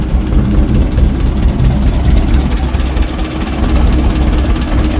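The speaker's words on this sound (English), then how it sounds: "This is the quietest running tractor." An Oliver 550 four-cylinder antique tractor engine runs steadily at a tractor show, a low, even rumble with a quiet, smooth idle-like throb, close by and unbroken.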